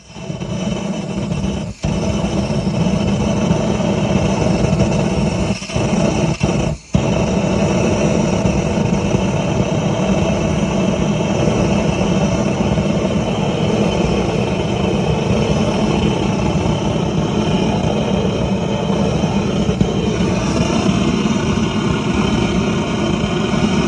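A refurbished Turner gas torch burns with a continuous loud, jet-like roar that holds steady for the whole stretch, broken only by a couple of brief dips early on; no voices.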